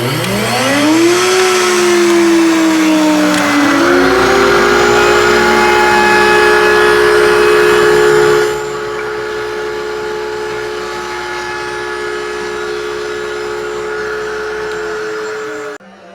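Router at about 1100 RPM cutting a 1/4 inch round over along the edge of a segmented Greene and Greene style cocktail tabletop; a loud steady whine spins up, holds under load, eases after eight seconds and winds down at the end.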